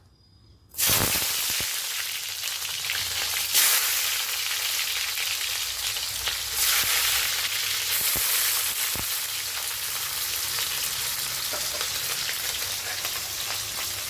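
Onions frying in hot oil in a pan, a dense steady sizzle that starts abruptly and continues close and loud, with a few clinks of stirring.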